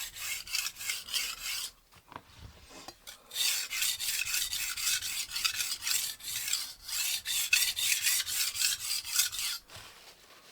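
Wusthof kitchen knife being sharpened on a coarse VENEV diamond stone, repeated rhythmic raspy strokes close up, steady back-and-forth scraping with a brief pause near the start.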